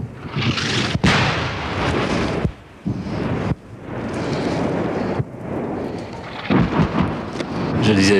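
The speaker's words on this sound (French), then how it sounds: "Je disais justement que l'artillerie française ne réagissait pas vite aujourd'hui. Ça tombe loin d'ici pour le moment?" French artillery fire falling at a distance: a series of deep, rumbling booms at irregular intervals, each rolling on for a second or more, heavy and resonant like thunder.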